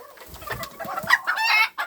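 A young bantam chick, probably a cockerel, gives a few short peeps and a longer squawking call up close, rising in loudness toward the end, alone without talk.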